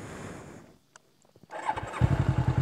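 A Suzuki GS 500 motorcycle engine starting up after a brief quiet pause, cranking with a few clicks and then catching into a loud, steady, pulsing idle close to the microphone.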